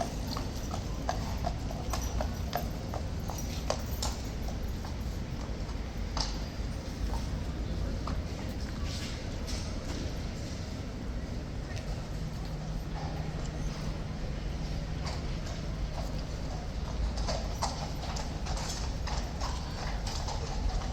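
Two horses at Horse Guards stand and shift on hard ground, their hooves giving irregular clip-clop knocks amid quiet outdoor ambience, fairly close and moderately loud, with no talk.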